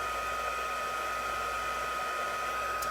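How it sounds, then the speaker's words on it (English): An embossing heat tool running on setting 2 gives a steady, loud blowing roar that holds constant from start to finish, with no talk over it. "I'm going to take my heating tool, which will be on setting 2"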